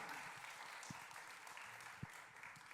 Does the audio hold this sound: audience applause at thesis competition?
yes